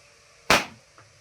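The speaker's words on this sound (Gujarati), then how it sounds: "આ બીડી બોમ્બ હવે હરગાવા જઈ રહ્યા છીએ" A single sharp bidi bomb firecracker pop rings out and decays quickly, followed by a faint tick, over a quiet background.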